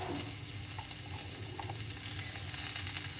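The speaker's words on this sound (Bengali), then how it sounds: "আজকে ভাত ভাজা হবে, মানে ফ্রাইড রাইস" Leftover rice frying in a pan for fried rice, a continuous soft sizzle with faint stirring scrapes, steady and close throughout with no talk.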